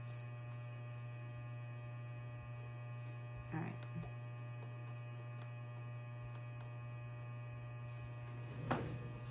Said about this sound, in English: It's like a humming noise, right?